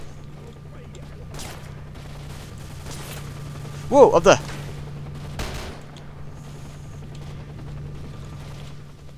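Gunfire in the S.T.A.L.K.E.R. Shadow of Chernobyl video game: a couple of sharp bursts close together, then a later single crack, with a man exclaiming briefly over a steady low hum.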